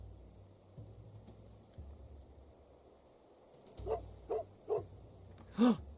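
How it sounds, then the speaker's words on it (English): A dog barks four times in quick, separate yaps toward the end, fairly faint and a little distant, over quiet keyboard typing and a low hum during a session of the city-building game Ancient Cities. "Is that a dog? Is that a doggy I hear?"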